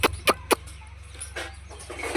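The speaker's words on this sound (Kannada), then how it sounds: "ಕೋಳಿ ಕೋಳಿ" Domestic chickens at a rural village home, with several short, sharp clucks near the start over a low steady hum and faint background noise.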